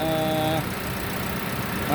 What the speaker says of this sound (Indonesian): Calya mengusung mesin 1200 cc 4 silinder